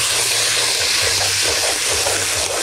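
Chicken drops into hot spiced oil in a village kitchen for strawberry chicken, a loud, steady broadband sizzle and hiss close by, with low rhythmic rumbling underneath.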